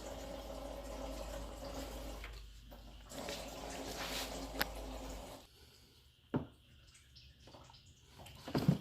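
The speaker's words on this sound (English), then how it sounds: "Just peeing out the rest of the antifreeze." Antifreeze draining from the thermostat housing of a 2015 Mini Cooper Countryman S, a soft trickling and splashing of liquid up close. Scattered drips and small gurgles follow as the flow tapers off.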